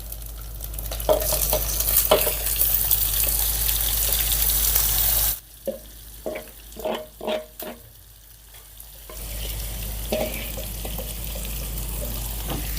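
Marinated eggplant pieces frying in a pan of ginger garlic paste, giving a steady loud sizzle with stirring scrapes that drops away for a few seconds into brief clinks before the frying hiss returns.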